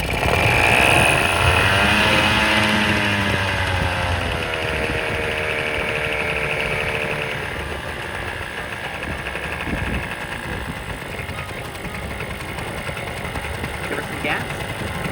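An old 35-year-old diesel outboard engine starts with a rising, wavering whine, then settles into a steady, loud, chugging idle close by.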